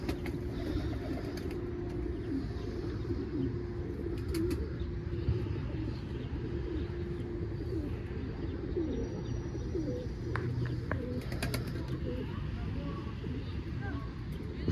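Pigeons coo softly and steadily over a constant outdoor hum, with people talking nearby and occasional sharp clicks.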